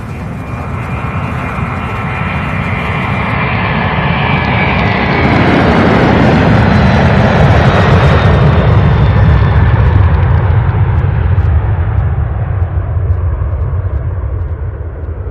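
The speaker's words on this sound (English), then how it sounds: "Wow, that one takes off." UPS cargo jet taking off at Louisville SDF airport, a loud engine roar that swells as the aircraft passes close and then slowly fades into the distance, with no voices.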